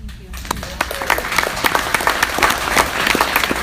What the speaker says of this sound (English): You better fucking clap.